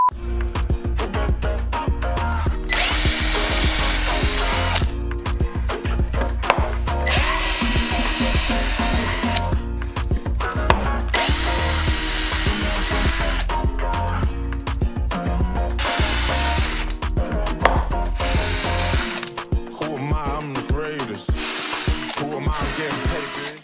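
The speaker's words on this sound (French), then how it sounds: "on a fait des trous dans toutes les planches" A power drill bores holes through wooden planks for a homemade wooden bench, running in long loud bursts with short pauses between holes, plus a brief quieter stretch near the end.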